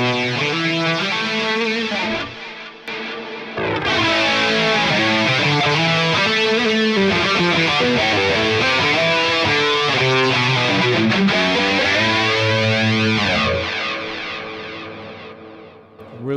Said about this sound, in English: the compressor does just as it says, just compresses the signal more or less.